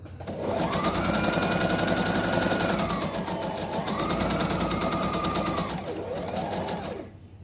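A sewing machine stitches a men's koko shirt with a loud, close, continuous rapid whirring and mechanical chatter, running steadily for several seconds, easing slightly in pitch twice, then stopping.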